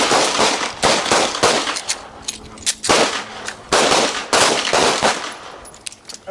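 Handgun shots fired on a target at a combatives class, a rapid series of loud, sharp cracks in several bursts with short pauses between strings, close by.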